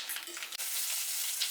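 Tempering of mustard seeds, cumin, dried red chilli, curry leaves and asafoetida frying in ghee for wedding-style sambar: a close, continuous bright sizzle and crackle, heard alone.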